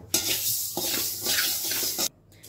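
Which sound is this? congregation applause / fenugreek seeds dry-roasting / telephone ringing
fenugreek seeds dry-roasting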